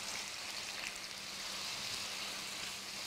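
Steady, even sizzle of onion, ginger and garlic paste frying in hot soybean oil, a continuous close hiss with no voices.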